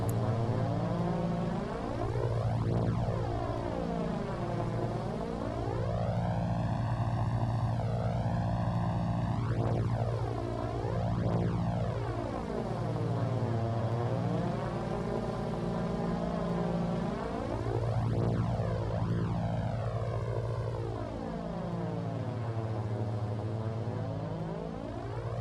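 A paratrooper plane's engine drones steadily in the video game Foxhole, with a loud continuous hum whose tone sweeps up and down in repeated phasing waves and no voices.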